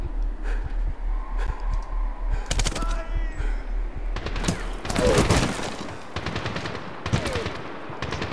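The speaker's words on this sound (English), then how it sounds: "Stop shooting me, stop shooting me." Enemy gunfire in Medal of Honor on the hard setting: repeated close machine-gun bursts and single shots over a low droning hum, growing denser and louder toward the middle.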